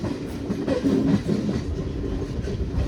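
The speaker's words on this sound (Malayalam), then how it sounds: "അപ്പോൾ ഇവിടെ ഫസ്റ്റിൽ ഒരു ട്രെയിൻ വന്നിട്ടുണ്ട് കേട്ടോ." A Malabar Express train arrives at Kollam Junction station, heard as a continuous close rumble with faint rhythmic wheel clatter and no speech.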